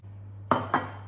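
Two sharp clinks of metal utensils against a bowl while salad ingredients are mixed, close and distinct over a steady low hum.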